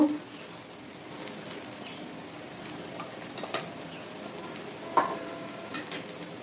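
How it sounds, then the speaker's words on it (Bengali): Onions frying in a pan for a fish curry give a quiet, steady sizzle with a few soft clicks and stirring knocks, and a faint voice now and then. "পেঁয়াজগুলো আমার ভাজা মোটামুটি হয়ে গেছে"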